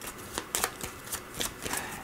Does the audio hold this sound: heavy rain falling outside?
no